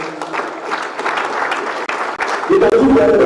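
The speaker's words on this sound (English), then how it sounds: "Please a round of applause for him." Applause greets an archbishop at a Nigerian Independence Day event with presidential candidates, a dense crowd clapping throughout, joined near the end by a loud tonal sound over the clapping.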